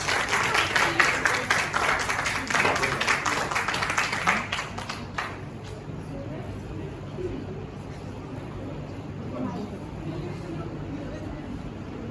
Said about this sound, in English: Please welcome them on stage with a great round of applause.